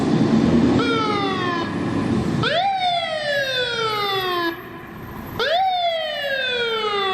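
A fire truck siren wails loudly nearby in repeated falling sweeps, each restarting with a sharp rise, over heavy traffic rumble, with a brief dip before the next cycle.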